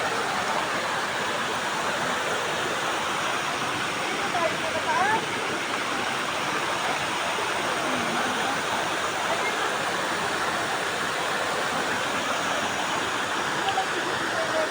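Nancy Falls pours in a steady, dense roar of falling water, loud and unbroken throughout, with nothing else rising above the constant rush.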